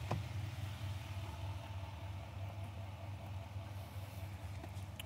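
2021 GMC Sierra 2500HD Denali Ultimate with a 6.6 Duramax diesel, idling in a low steady rumble just before shutdown, faint and even throughout.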